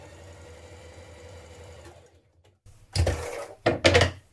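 Sewing machine stitching the short notched edges of dress sleeve ruffles, a steady mechanical whir for two seconds, a pause, then two louder bursts of stitching close by.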